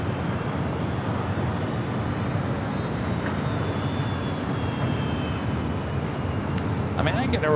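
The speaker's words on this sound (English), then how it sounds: "Next arrival coming in from Oakland, Southwest Airlines flight 2425," A Southwest Airlines Boeing 737-800 from Oakland arrives at Los Angeles airport, its jet engines making a steady, moderate rumble that stays even throughout.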